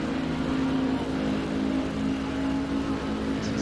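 Simulated Porsche race car engine at Spa in a PS4 racing game, a steady droning hum holding a fairly constant pitch down the straight, moderately loud with no gaps.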